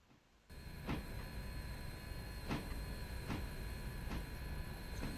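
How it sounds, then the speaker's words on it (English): A locomotive dynamo in the Railroader video game whines with a steady high-pitched tone over a low mechanical rumble, with periodic faint clicks every second or so and no voices. "That dynamo is making some squirrely sounds."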